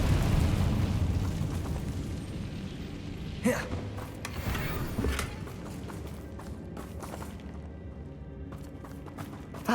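An Incendio fire spell cast in Hogwarts Legacy flares with a sudden whooshing burst around three and a half seconds, then a second flare and crackling, creaking clatter over a rumbling background.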